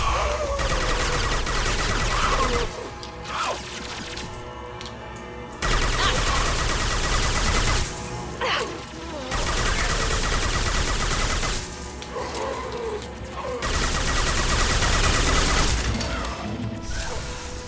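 Sustained automatic gunfire in the video game Mass Effect 2, loud and dense, arriving in long bursts separated by short pauses, with crashing impacts mixed in.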